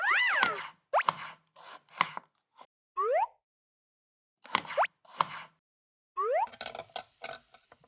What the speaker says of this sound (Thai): ซอยชีสก่อนครับ